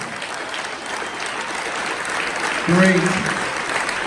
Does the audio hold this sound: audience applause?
yes